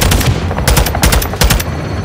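Automatic gunfire in the video game Call of Duty Modern Warfare 2, several loud rapid bursts of shots close by with brief gaps between volleys.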